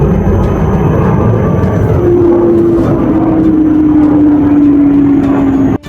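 An airplane passing overhead, a loud steady engine roar filling the whole stretch with a slowly falling drone, close and continuous with no talk over it.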